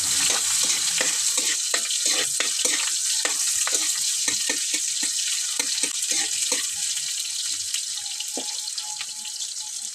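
Garlic and onion sauté in a pan for Filipino adobo with string beans, a steady loud sizzle and crackle broken by frequent scraping stirs close by.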